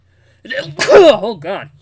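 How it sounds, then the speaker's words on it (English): A single close sneeze with a sharp burst, caught in a short exchange; a voice speaks briefly right after it. "Yep, that was a sneeze."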